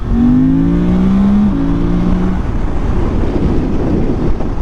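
A Suzuki V-Strom 800 motorcycle engine and airbox under throttle: a loud, throaty rising rev with climbing tonal harmonics for about two seconds, then settling into a steady rumbling drone with wind noise.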